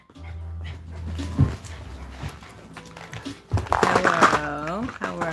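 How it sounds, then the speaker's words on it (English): Excited dogs whimpering, yipping and barking close by at home, with a person talking over them in short bursts; the whines rise into a loud, wavering cluster near the end. "My dogs are going crazy right now."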